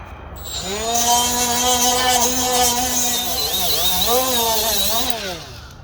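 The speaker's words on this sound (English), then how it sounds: "So we're going to take our M12 die grinder." Cordless M12 die grinder whining steadily at high speed, its pitch dipping and recovering under load while it scrubs corroded wire connections on a 1999-2006 Silverado, Sierra, Tahoe or Yukon; loud and close, starting and stopping cleanly.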